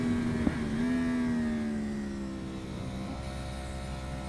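Race car powered by a 1000cc motorcycle engine droning steadily on a track, a sustained high-pitched engine tone that dips slightly and holds with no talking.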